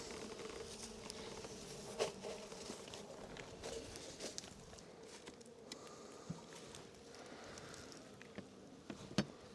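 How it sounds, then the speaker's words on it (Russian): Honeybees hum steadily in an opened hive during active spring season, a dense close buzzing drone with faint occasional taps and knocks over the whole span. "Так, ну пчелы достаточно много."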